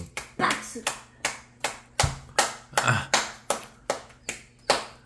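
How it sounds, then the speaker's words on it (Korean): A baby claps its hands at the mealtime table, making about a dozen close, crisp claps in a fairly regular rhythm while adults chatter in the background. "박수."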